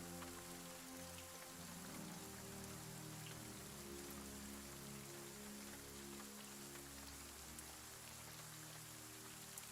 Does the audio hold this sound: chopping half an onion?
no